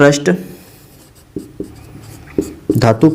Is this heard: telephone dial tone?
no